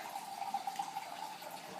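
Purified water pours in a thin steady stream into a vegetable stir-fry for kitchari, a quiet continuous trickle with a faint tonal ring and no talking.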